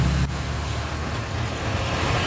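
A car descends a mountain ghat road with a novice driver at the wheel, its steady low engine drone and road rumble continuous and close for a couple of seconds.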